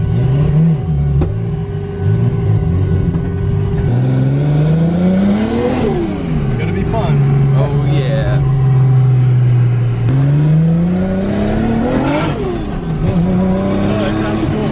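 A built RB25-powered Nissan Skyline revs hard and accelerates in repeated rising pulls, its engine note climbing and dropping close by with tyre noise, while occupants occasionally exclaim over it.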